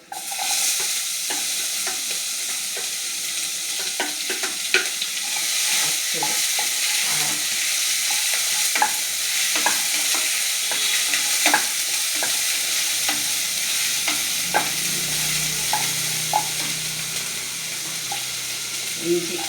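Sliced onion sizzling in hot oil in a pan for a home-style dish, steady frying hiss with repeated scraping clicks of a spoon stirring throughout, close and fairly loud; a low hum enters near the end.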